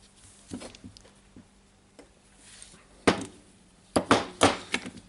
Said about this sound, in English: of course I will press everything with the pliers